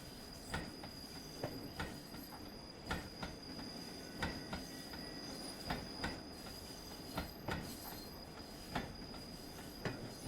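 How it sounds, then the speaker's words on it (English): A Train Sim World 8F steam locomotive runs from Widnes toward Speke Junction, with a steady rolling rumble, faint high wheel-flange squeal and regular clicking wheel beats every second or so. "So you got a bit of flange contact there by the sounds of it."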